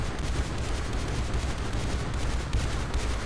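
Steady, dense gunfire from turrets and units in Mindustry rattles continuously with no pauses, loud and close throughout the short stretch.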